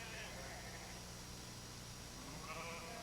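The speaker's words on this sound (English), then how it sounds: "she sees that Toby has slowed down because there are sheep on his line" Sheep standing on a railway line bleat in a short, fairly quiet burst over a low steady background hum, with one bleat near the start and another near the end.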